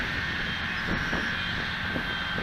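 An E-flite Apprentice S 15e electric RC airplane flies overhead at a park, its motor giving a steady, loud buzzing drone throughout, with no voices.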